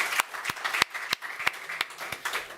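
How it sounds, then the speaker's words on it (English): Applause from a small audience at a policy conference session on AI and big data, heard as sparse, separate hand claps spaced irregularly at moderate loudness with no talk. "We'll give him a round of applause again."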